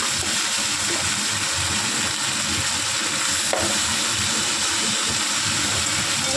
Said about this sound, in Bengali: বেগুনগুলোকে তুলে নিয়ে তেলের মধ্যে দেব টমেটো, দেব নুন, আর দেব হলুদ।